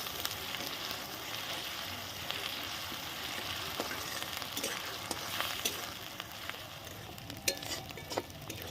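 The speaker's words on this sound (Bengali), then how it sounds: "পেঁয়াজটা আমি লাল করে ভেজে নিব" Onions sizzle steadily in a pan as they fry until reddish-brown for a Bengali fish curry, a continuous close hiss broken by occasional stirring scrapes and light clinks, with no talking.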